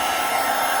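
A hair dryer blows hot air onto a Samsung Galaxy A5 phone screen to heat it for disassembly. The sound is a loud, steady, close-up whooshing roar with no talking.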